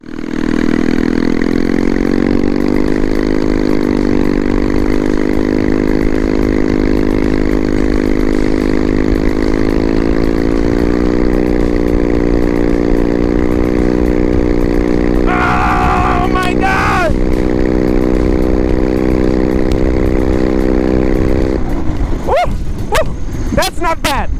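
A racing lawn mower fitted with dual carburetors runs loud and close, a steady buzzing engine drone that climbs gradually, broken by brief shouts midway and near the end.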